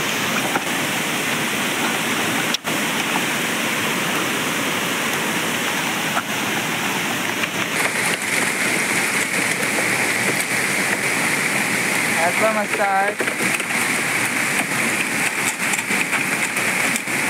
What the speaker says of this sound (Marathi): पाऊस आला लवकर चल.